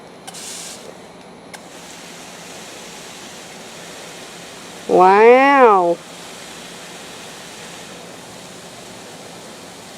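A garden hose on its shower setting sprays water as a steady, soft hiss that runs through the whole stretch, with a brief exclaiming voice cutting in midway.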